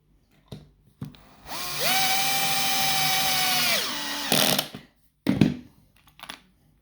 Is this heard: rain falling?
no